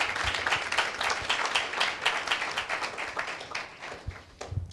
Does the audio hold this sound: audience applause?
yes